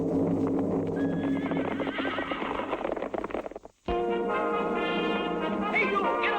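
Horses neigh loudly and repeatedly, shrill whinnies rising and falling over a steady patter of clip-clopping hooves, with a brief silent break midway before another burst of neighing and hoofbeats.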